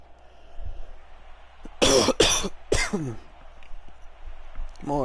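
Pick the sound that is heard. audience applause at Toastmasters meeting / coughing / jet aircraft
coughing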